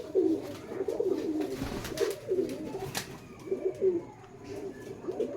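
Lotan pigeons cooing nearby in soft, repeated rolling calls, with light rustling and handling noises in the background.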